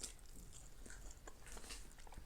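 Quiet, close biting and crunching of crispy Popeyes fried food, with a few sharp crunch snaps scattered over soft chewing and background hiss.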